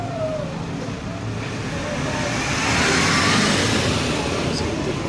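Car driving past on a street corner at a Colombian intersection, a steady broadband road roar that swells and peaks midway, with faint background voices.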